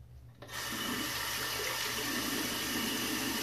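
Running water from a tap warms a shaving brush in a cold room, starting suddenly after a quiet moment and then flowing as a steady, full hiss that fills the space.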